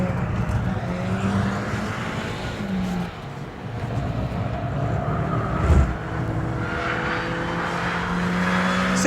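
A 2006 MINI Cooper S JCW GP driven hard on a track gives a loud, sustained engine roar with rising and falling revs and a brief dip partway, heard close with no talking.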